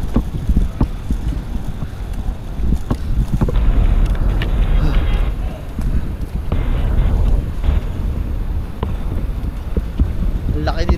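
Wind buffets the deck of a large passenger ship underway, with a low throbbing engine hum and water rush running steadily throughout; occasional voices and handling noises sit close by.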